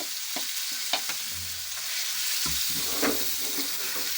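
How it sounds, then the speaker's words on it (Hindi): Marinated chicken frying in hot oil in a frying pan, a close sizzling crackle with scraping stir strokes and soft clatters at irregular intervals, nobody speaking. "अब हम इसको फ्राई कर लेते हैं।"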